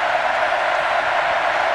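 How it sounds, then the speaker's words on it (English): A college football crowd at an Oklahoma Sooners versus Texas A&M Aggies game roars in a steady, dense wash of cheering and noise, constant and fairly loud throughout with no pauses. "Crowd rocking."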